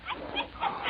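Small puppy in a 1946 Christmas radio drama giving a few quick, high yips and whimpery barks, close and lo-fi, alone.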